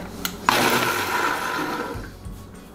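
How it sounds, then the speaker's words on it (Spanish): A blender whirs loudly through chile de árbol salsa with garlic and consomé, a sharp start followed by a steady roaring grind lasting about a second and a half, then winding down. "Ya que licuamos la salsa"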